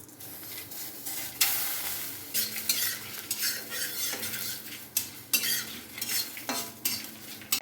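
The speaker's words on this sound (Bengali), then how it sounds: "এই চারটি উপকরণই কিন্তু শুকনো কড়াইতে ভালো করে ভেজে নিতে হবে" Dry spices, including cumin and fenugreek, rattle and scrape in a dry pan as a utensil stirs them, irregular scraping strokes with faint crackling, close by.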